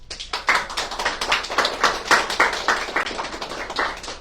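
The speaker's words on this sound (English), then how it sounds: "Well, claps for the artist." An audience claps for an artist at an artist talk, a dense burst of applause lasting a few seconds, fairly close and steady before tapering slightly at the end.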